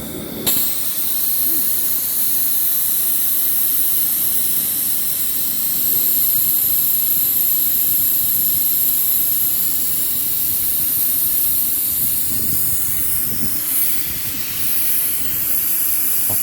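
A model steam engine named Waverley on its first run at Northcliff Woods: continuous loud hiss of escaping steam with a high whistle-like tone, a small engine chuffing underneath as it gets moving.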